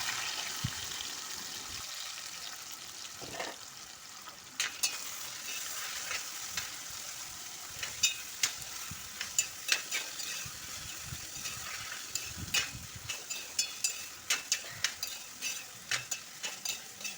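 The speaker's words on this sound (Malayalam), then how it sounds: "ഉരുളിയിൽ എള്ളെണ്ണ ചൂടായതിലേക്ക് മുറിച്ചു വെച്ച പപ്പായ ഇട്ട് വഴറ്റിയെടുക്കണം" Papaya pieces sauté in hot sesame oil in a heavy uruli pan for pickle, a soft sizzle under repeated stirring and scraping taps that grow more frequent toward the end, fairly quiet and close.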